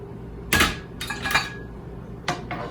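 Ceramic oven-safe bowls and a ladle clink and knock as French onion soup is served: a few separate sharp clinks and clatters with short pauses between, close by and fairly quiet.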